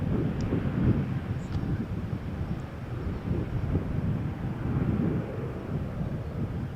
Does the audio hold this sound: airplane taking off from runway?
yes